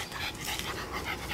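A dog pants in quick, steady breaths at close range, with a faint whimper running through the short stretch and no talk.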